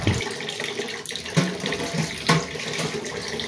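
Water runs steadily into a large cooking pot while preparing sinaing na tulingan, a continuous close tap-like rush with a few brief splashy gurgles, no voices.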